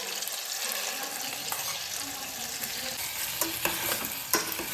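Onion, chili and tomato sizzle in hot oil for pasta, a close, busy frying hiss punctuated by several sharp scrapes and clinks of a spoon stirring the pan, with no talking.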